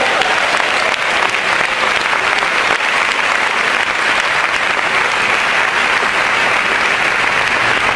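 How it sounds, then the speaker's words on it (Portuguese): A church congregation applauds loudly and steadily, a dense, continuous wall of clapping from many hands that fills the sanctuary without pause. "Aplauda o Senhor bem forte."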